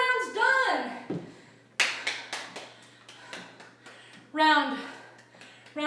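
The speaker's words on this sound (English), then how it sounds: "Round of applause." A small group claps in a brief burst after finishing a fourth round of a festive fitness workout, with whoops and cheering voices at the start and end, the claps close and uneven.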